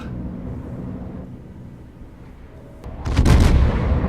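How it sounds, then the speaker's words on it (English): A heavy warship main-gun salvo fires in the World of Warships naval combat game, a loud low booming blast rising sharply near the end after a steady rumbling background of battle noise. "and then one more salvo"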